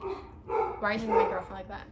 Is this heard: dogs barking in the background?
yes